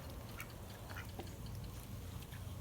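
Ducks quack outdoors, faint and somewhat distant, with scattered calls under a steady background hiss.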